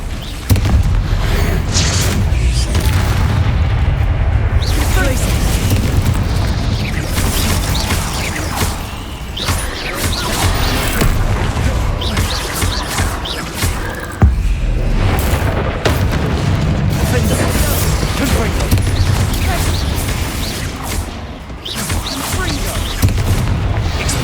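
Repeated Confringo blasting-spell explosions in the Hogwarts Legacy video game, loud booming bursts packed densely across the stretch over a constant battle din, with a voice talking in places.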